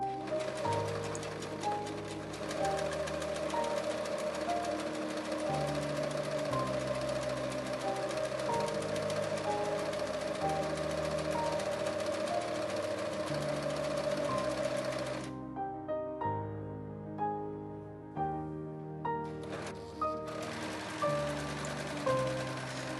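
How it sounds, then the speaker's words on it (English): A serger overlocks the inner edge of a pinafore dress hem facing, running steadily and close for about fifteen seconds before breaking into short, stop-start bursts. "On the hem facing, I serge the inner edge"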